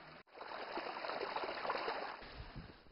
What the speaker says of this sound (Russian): Мы зашли в лес под аккомпанемент журчащей воды и моих причитаний.